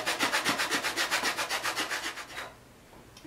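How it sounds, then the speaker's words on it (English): A sandpaper-covered paint stick rubs back and forth across the breast of a rubber boot heel, giving quick, close, rhythmic rasping strokes for about two and a half seconds before stopping. "I sloped it off on the back edges and glued sandpaper to it. And I use it to clean up my heel breast."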